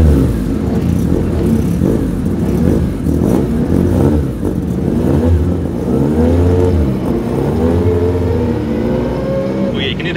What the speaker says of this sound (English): it's got a straight cut gearbox in it